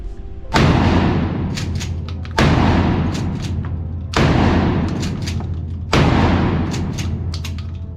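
A Mossberg 590 Shockwave 12 gauge shotgun fires four loud, booming shots, spaced roughly 1.7 seconds apart, each followed by a short decaying echo.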